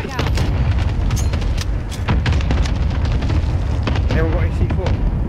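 A frag grenade blast in a multiplayer shooter match, loud and dense, heard amid a steady wash of gunfire and explosions with players talking over it.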